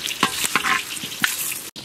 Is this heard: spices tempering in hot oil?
yes